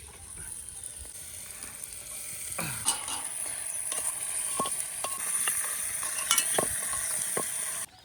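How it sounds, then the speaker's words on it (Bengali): Chicken and fried spices sizzle steadily in a handi pot over an outdoor fire in a jungle, with scraping stirs and occasional clacks of a utensil against the pot, ending abruptly. "এবার চিকেনটা দিয়ে দিই ওদের ভিতরে"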